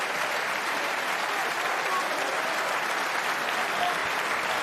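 Sustained applause from the crowd at the 2022 World Snooker Championship match between Judd Trump and Mark Williams, a dense, even wash of clapping throughout with a commentator's voice faintly over it.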